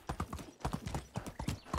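A horse's hooves clip-clop in the medieval game Medieval Dynasty as the horse rides along, a quick uneven rhythm of close, crisp hoofbeats with a brief pause partway through.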